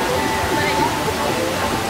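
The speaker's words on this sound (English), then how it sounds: "Waterfall action." A dense, continuous roar of falling water at Pandora in Disney's Animal Kingdom fills the clip, broad and steady, with faint voices mixed into the rush.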